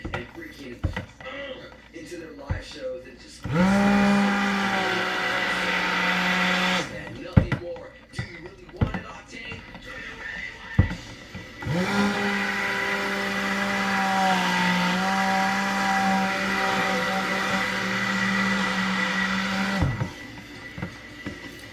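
A stick blender whirs in two long bursts while mixing beer and oils for soap, each steady motorized hum lasting several seconds, with a person talking between and around the runs.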